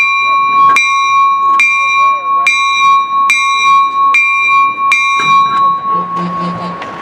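The bell of an Erie Lackawanna U34CH locomotive, number 3372, rings loud and close in an even rhythm, about seven strokes at steady intervals, each clang ringing into the next, with a person talking faintly underneath toward the end.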